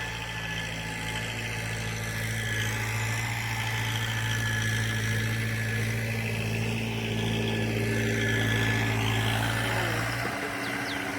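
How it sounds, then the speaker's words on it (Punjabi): A tractor engine chugs steadily at idle with a low droning hum and vibration, constant and fairly near, then cuts off abruptly near the end. "ਇਧਰ ਟਰੈਕਟਰ ਵਗ ਰਿਹਾ"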